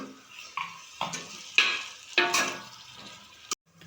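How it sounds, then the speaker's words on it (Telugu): Fried eggs being stirred into a tomato curry in a pan, a few separate scrapes and clinks of a utensil over a soft, fading sizzle, close and fairly quiet. "ఒకసారి కలుపుదాం"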